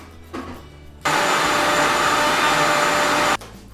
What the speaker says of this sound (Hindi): अब हमारे ब्लेंडर जार को बंद कर लेते हैं।